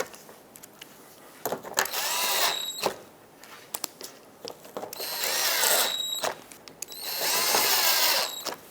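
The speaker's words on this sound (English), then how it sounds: "Put in all the screws that hold this on." A cordless power drill drives screws into the plastic bumper shield of a 2014-2021 Mazda 6. It whirs up in three separate bursts, with short pauses between them and quieter clicks and handling noise in the gaps.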